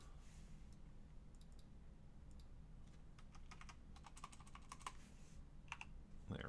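Keys clack on a computer keyboard in quick, uneven bursts of close taps, growing busier partway through, heard alone over a low steady hum while a Photopea game background is being made.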